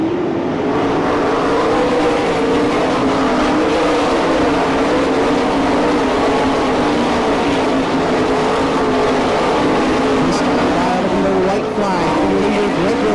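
Sprint cars of the All Stars and NCRA series race around a Franklin, Pennsylvania dirt track, their engines blending into a loud, unbroken roar with wavering harmonic tones as they circle.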